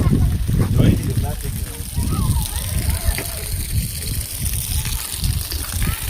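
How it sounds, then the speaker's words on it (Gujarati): Water trickles and sloshes down rocks from hillside pools at Patanvav Osam Hill in Gujarat, a continuous close gurgling flow with splashes, while people talk over it. "અને બસ અત્યારે આટલું પાણી જાય છે"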